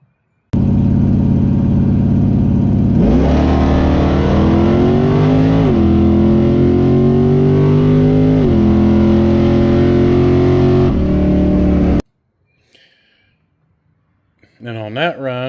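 Drag race car launching down the track with a Turbo Action J 9-inch torque converter, engine roaring loud and close through rising gear pulls for about eleven seconds, then cutting off into near silence before a brief voice.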